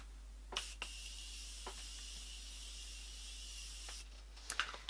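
A Morphe continuous makeup setting spray releases a long, even misting hiss lasting several seconds, close by, with a few soft clicks and handling noises before and after.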